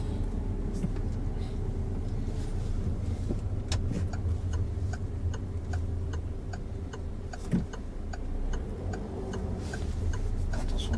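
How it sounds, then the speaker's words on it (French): A car's right turn signal indicator ticks at an even, steady pace inside the cabin during a driving test, with the low hum of the engine and road beneath. "Attention de ne pas induire en erreur les autres avec le clignotant droit."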